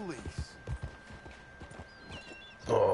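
Horse hooves clip-clopping in the video game Red Dead Redemption 2: a series of close, rhythmic hoof beats over a quiet backdrop, ending in a louder, busier burst of sound.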